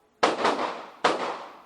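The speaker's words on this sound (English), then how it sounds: "this piece does contain the sounds of gunshots." Pistol fire at a shooting range: two sharp, booming reports roughly 0.8 seconds apart, each trailing off in a reverberant ring inside the range.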